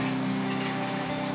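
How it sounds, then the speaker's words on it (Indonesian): Light drizzle falls steadily at a camp post in misty countryside in North Aceh, a soft continuous hiss with a faint low hum beneath and no voices. "ini lagi hujan gerimis."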